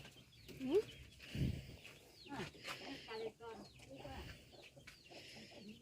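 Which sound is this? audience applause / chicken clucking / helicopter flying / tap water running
chicken clucking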